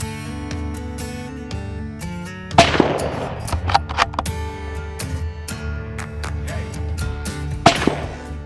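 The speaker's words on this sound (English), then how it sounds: "what I'm going to do now is go for a shot and a quick follow-up and see how it operates in a bit of stress" A Remington 783 rifle fires a shot and then a quick follow-up, two sharp loud cracks several seconds apart over a background of ringing tones and clatter.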